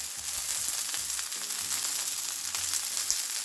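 Cherry tomatoes blistering in a hot pan give a steady, close crackling sizzle with faint pops throughout, alone and without talk.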